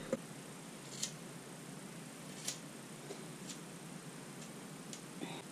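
Scissors trimming hair bangs at home, a handful of faint crisp snips spaced about a second apart over a low steady background hiss, close but quiet and with no talk.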